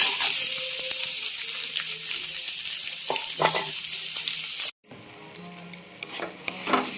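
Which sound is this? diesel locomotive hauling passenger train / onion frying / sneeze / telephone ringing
onion frying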